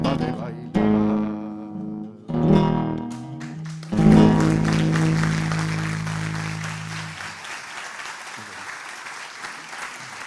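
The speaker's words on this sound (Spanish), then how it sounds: "Los aplausos para Olguita" Audience applause at a tribute event for Olga Fernández Latour, bursting in loudly after a sung folk samba with guitar and then sustaining as dense, steady clapping that slowly thins toward the end.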